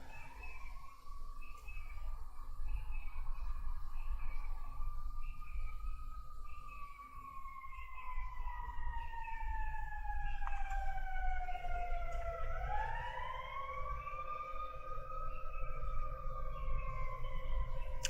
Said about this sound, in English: sounds like an ambulance is coming to get him